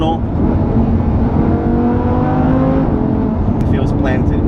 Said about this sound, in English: downshift in the tunnel.